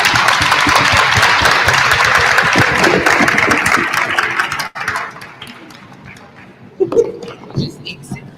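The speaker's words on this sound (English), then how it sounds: "Give them a round of applause" An audience at a World AIDS Day event claps loudly and steadily for several seconds, a dense wash of hands that stops abruptly midway, leaving scattered softer claps and murmuring voices.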